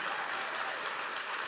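Audience applause at a presentation of the FTTM: a steady, dense wash of clapping that fills the whole short moment without a break, with no voices over it.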